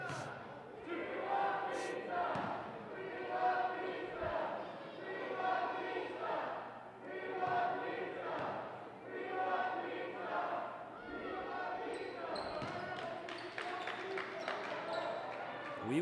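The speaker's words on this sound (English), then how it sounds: "We want pizza is the chant by the crowd tonight." Crowd chanting "we want pizza" during free throws at an Iowa Central Tritons vs Ellsworth Panthers college basketball game, a rhythmic repeated group chant filling the gym over a steady low hum.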